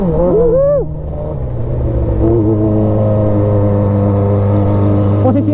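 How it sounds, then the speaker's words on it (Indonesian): Yamaha R6 sport motorcycle with a loud aftermarket exhaust, idling close to the microphone with a steady deep drone after a brief rev at the start. "Knalpotnya buset, kenceng bener"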